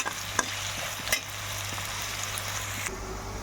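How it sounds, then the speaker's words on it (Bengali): Beans and carrots with ground spices fry and sizzle in a pan, a steady hiss with a few stirring scrapes and knocks from a utensil, and no talking. "আর এখানে তো বিনস গাজরটা ভাজা হচ্ছে"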